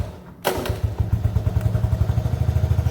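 A Honda ATC 70 three-wheeler catches after a short pull start with the choke on: a thump, then the small engine settles into a loud, rapid, steady putter close by.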